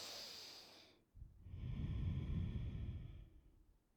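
A single long breath during yoga, an airy inhale after a brief sharp exhale, close and soft, alone with no talk.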